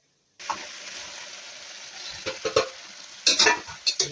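Sesame seeds and mustard seeds sizzling in hot oil for a tempering for methi muthiya, a steady crackling hiss broken by several scraping stirs and louder spits toward the end.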